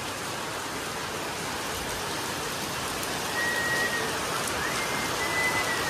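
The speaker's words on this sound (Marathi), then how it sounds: "आज पाऊस बघा मजबूत आहे" Heavy rain pours steadily outdoors where a vehicle is parked, a dense continuous hiss of drops on surfaces that swells slightly louder partway through.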